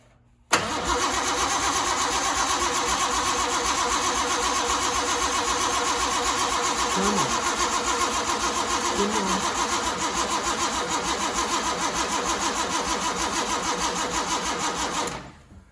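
A Reliant Scimitar GTE SE5/A engine cranks steadily on its starter for about fifteen seconds without settling, a loud, continuous mechanical churn that stops abruptly at the end.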